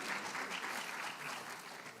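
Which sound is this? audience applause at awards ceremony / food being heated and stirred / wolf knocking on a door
audience applause at awards ceremony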